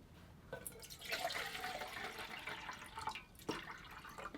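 Water poured into a cup at a night campsite beside a 1981 British military Land Rover, a quiet trickling fill lasting a few seconds, faint and close.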